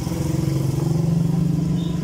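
A Honda Beat ESP scooter engine idles with a fast, even putter, running slightly high at around 1700 rpm, close and steady with a low rhythmic throb and no voices.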